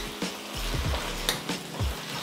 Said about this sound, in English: Now I got sizzle.